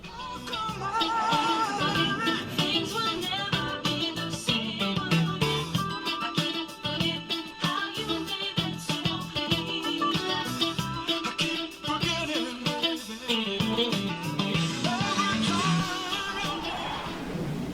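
An electric guitar plays the ending-chorus riffs of a song, with busy, rhythmic picked phrases and chords that carry on steadily, close and clear, with no voice over them.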